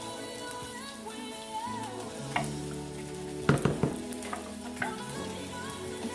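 Refried beans frying in vegan butter in a pot give a steady sizzle, with scraping stir clatters and a cluster of sharp knocks partway through, close and moderately loud with no talk.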